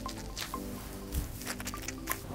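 Wet curly hair loaded with water and foam gets scrunched by hand, producing soft, quiet squelching squishes in a few short pulses close to the ear.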